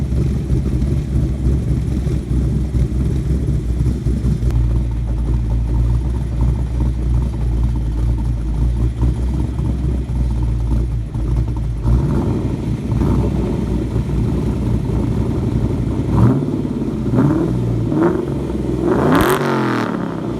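V8 exhaust of an SN95 Mustang fitted with BBK shorty headers, a loud, deep, steady rumble that runs throughout, breaking into sharper revs and pops near the end.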